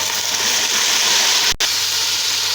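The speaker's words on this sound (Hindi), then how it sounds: "अभी इसमें पानी ऐड करेंगे थोड़ा सा।" Water poured into light-browned onions frying in hot oil for kadhi pakora, giving a steady loud sizzle and hiss throughout, with a brief sharp dropout near the middle before the sizzling resumes.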